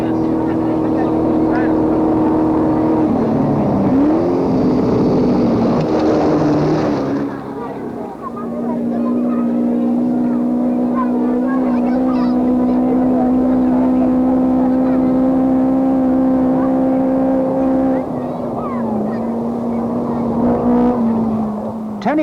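Datsun rally cars fly past on rough village roads during the Safari Rally in Kenya, a droning, harmonic engine note rising and falling as they pass, with a voice talking over it.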